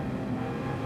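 A race car engine in Gran Turismo 7 drones steadily at high revs, loud and continuous with a dense, buzzing tone and no voices over it.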